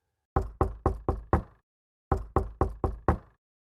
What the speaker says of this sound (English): A little later, there was a knock at the door,